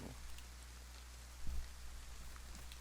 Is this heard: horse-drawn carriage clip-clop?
no